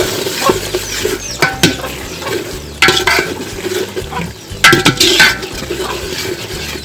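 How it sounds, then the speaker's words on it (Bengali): Cinnamon sticks and cardamom pods sautéing in a pan for roasted bhuna khichuri, with a constant low sizzle under repeated scraping stirs and occasional metallic clinks of the spoon against the pan. "এখন ভালো করে কষিয়ে নিব।"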